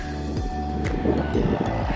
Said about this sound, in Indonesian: Dan itu ada traktor.